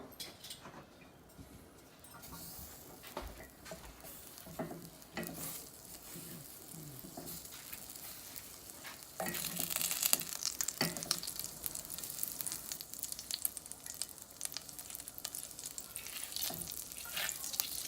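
Two tablespoons of butter melt in a pan for a macaroni and cheese sauce, giving a continuous bright sizzle with crackles and scraping that grows louder partway through, close up and with no one speaking.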